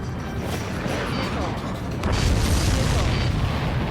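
Explosion in the jet combat video game Ace Combat 7: Skies Unknown, a loud sustained rumbling boom that swells and grows heavier midway, with in-game radio voices faintly underneath.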